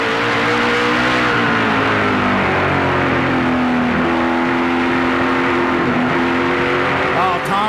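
A Chevy Impala SS stock car engine roars loud and close from onboard during a 2010 Lucas Oil National 250 race, holding a steady high drone with slight pitch shifts as the throttle is worked, while a voice talks faintly underneath.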